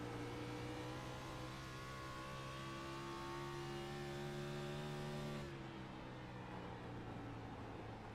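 Onboard NASCAR stock car engine in the iRacing video game at Rockingham, a steady loud drone with a rising pitch, then a sudden drop as the throttle lifts, with no voices.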